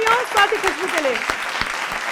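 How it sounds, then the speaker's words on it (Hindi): Audience applause for a poet at a Hindi poetry gathering, clapping heard close and fairly loud for about two seconds while a voice speaks over it. "एक बार जोरदार तालियां स्वाति खुशबू के लिए"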